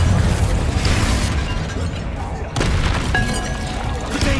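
Confringo fire spell blasting in Hogwarts Legacy gameplay: dense, loud crackling bursts and booming impacts run continuously, with a sharp break near the middle and a brief bright ring afterward.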